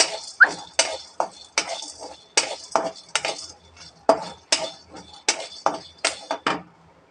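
Roasted chana dal and peanuts frying in a pan, heard as a steady run of rhythmic scraping and clinking stirring strokes, close and fairly loud, with no voices.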